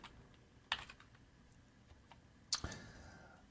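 Quiet computer keyboard typing, a few scattered soft keystrokes with a couple of sharper clicks, faint and close with low background hiss.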